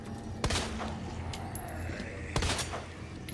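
Two sharp gunshots ring out in Resident Evil 2 (2019), spaced about two seconds apart over a low game ambience, each with a short echoing tail.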